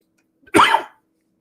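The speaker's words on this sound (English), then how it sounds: "The coughing persists." A single close, harsh cough, short and loud, followed by silence.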